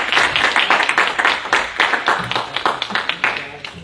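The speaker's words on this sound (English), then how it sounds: "Come on, clap your hands." A church congregation claps along during a Sunday service, quick, fairly rhythmic handclaps from many people, bright and close, continuing throughout with some vocal sounds mixed in.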